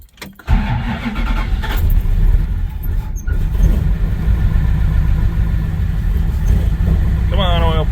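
A 1964 Plymouth Fury with recent front-end work and a carburetor swap cranks and catches, then settles into a loud, close, rumbling idle and revving engine; people talk briefly over it near the end.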